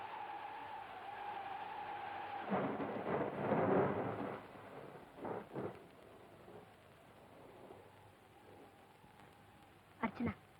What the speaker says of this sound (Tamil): வெளியே காத்து அதிகமா இருக்கு, மழையும் பெய்யுது.